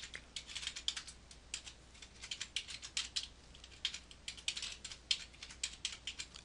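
Rapid soft key presses as data is typed into a calculator, a steady run of light clicking taps in short bursts, close and fairly quiet, with no talking.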